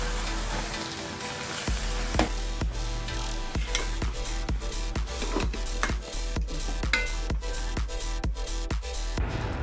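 A spoon scrapes and taps against a pan in regular strokes while Kerala-style tapioca and masala are stirred together, the strokes close and fairly steady over a low background hiss.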